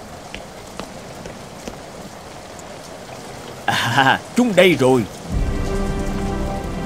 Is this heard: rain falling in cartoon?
yes